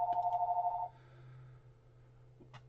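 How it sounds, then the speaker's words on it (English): A telephone ringing indoors during a debate stream, a steady electronic ring tone that cuts off after about a second, followed by a low hum and a couple of faint clicks. "Give me 2 seconds for this phone to stop."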